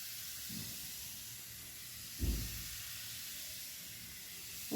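Nimko dough frying in hot oil, a steady faint hiss and sizzle throughout with a few soft low thumps, close and without talk.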